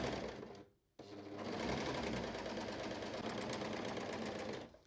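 A Bernette b48 MAKER sewing machine stitching knit fabric runs in a steady, fast whirring hum, pauses briefly, then resumes and keeps stitching for several seconds, fairly close and quiet.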